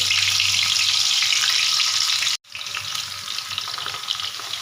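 Bitter gourds hit hot oil in a pan and sizzle loudly, a steady bright frying hiss that cuts out for a moment and then resumes with crackling and popping, close up, with no talk.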